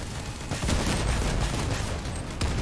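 Video game gunfire with a rocket launcher in play, a dense, continuous barrage of rapid shots and blasts at a loud, unbroken level.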